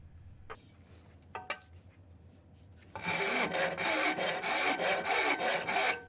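A hand file shapes a metal type punch for the euro character held in a vise, starting after a few quiet taps and then rasping in rapid, even back-and-forth strokes, close and loud.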